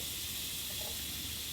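A tablespoon of butter sizzles as it melts in a hot pan for a pan sauce, a faint, steady, bright hiss that holds evenly for a moment with no talking.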